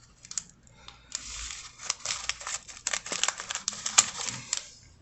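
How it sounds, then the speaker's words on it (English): Scissors snip and crunch through a package of wheat penny rolls, a quick run of close crisp cuts and rustles with crinkling plastic in between. "Let me get some scissors."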